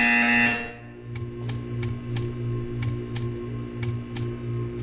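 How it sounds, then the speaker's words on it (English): A loud electronic buzzer in Portal 2 opens the clip and cuts off after half a second, followed by a steady low hum with a run of faint, evenly spaced high clicks. "You will hear a buzzer."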